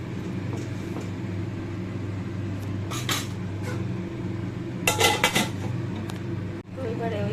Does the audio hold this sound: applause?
no